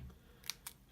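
Scissors snipping ribbon ends into a fishtail for a stamped gift tag: two quick, faint, crisp snips close together in a quiet room.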